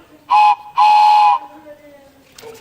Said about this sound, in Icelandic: Lestarflautan.